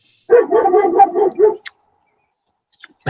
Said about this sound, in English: My dog's barking now.